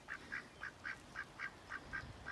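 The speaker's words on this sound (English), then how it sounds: "They're lovely, they're Aylesbury ducks." Aylesbury ducks on a garden pond give a steady run of about nine evenly spaced quacks, fairly close and clear over quiet outdoor background, with no talking.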